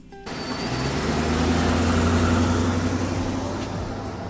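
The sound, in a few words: car engine arriving in the driveway, Homestuck sound effect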